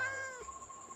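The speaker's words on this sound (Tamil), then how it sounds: "பூனை எப்படி வீட்டுக்குள்ளே வந்துச்சு?" A Minecraft cat inside a house gives a single clear, rising-and-falling meow, close and fairly loud, with faint game ambience after it and no speech.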